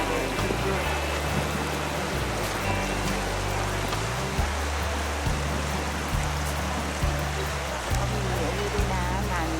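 A water stream flowing past rows of riverside houses in Europe produces a steady, broadband rushing wash throughout, with a low rumble underneath and no clear speech.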